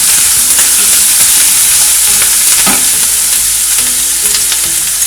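An onion mixture for malai kofta sautés and sizzles loudly in a pan, with occasional stirring scrapes. The hiss is close and continuous, and there is no talking.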